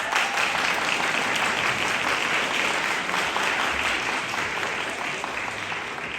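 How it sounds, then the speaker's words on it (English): Parents and families in a concert hall applaud at a junior honor band concert with a loud, thick, continuous roar of many hands that stays steady across several seconds and only eases a little toward the end. "There was one sarcastic applause"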